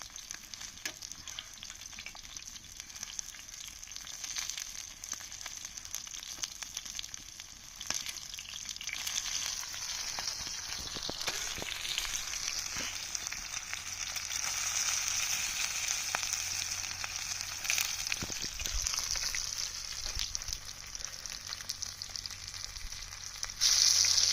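Anjal fish fries on a hot tawa with a steady, bright sizzle that swells and crackles as the pieces are flipped, close and continuous with no talk.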